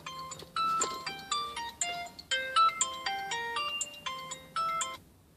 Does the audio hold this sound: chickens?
no